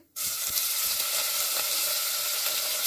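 Chopped chicken hits a hot pan for pulao and erupts into a loud, steady sizzle that starts abruptly and stays bright and crackling throughout, close up, with faint stirring scrapes.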